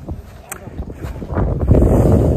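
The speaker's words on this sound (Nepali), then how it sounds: "हावा चलिरहेको छ" Wind gusts across a mountain campsite at Tarebhir, buffeting the microphone with a low, rising rumble that grows stronger toward the end, with faint voices early on.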